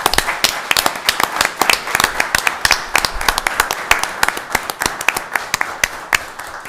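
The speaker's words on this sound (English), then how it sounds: "Let's give these men and women a round of applause," Applause at a town Board of Commissioners meeting: a modest room of people clapping, with distinct individual claps in a quick, uneven rhythm that carries on steadily for several seconds.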